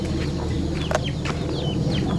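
Several chickens clucking close by, short repeated clucks and squawks over a steady farmyard background hum.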